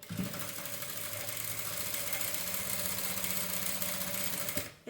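A sewing machine runs a straight stitch along a kurti seam, a continuous close mechanical whir with a rapid rhythmic chatter that holds evenly for several seconds before cutting off at the end.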